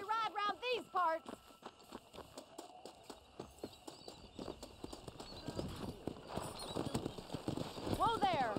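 Horses gallop in the Red Dead Redemption game as rhythmic hoof clip-clops thud along, opening and closing with whinnies, while voices talk over the riding throughout.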